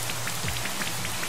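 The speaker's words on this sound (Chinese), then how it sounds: "下雨喽！ 淋在热烘烘的身体上，是不是格外清凉？" Rain from the Rain Dance move in Pokémon Sword and Shield patters steadily and fairly close, a soft continuous shower of drops with no talking.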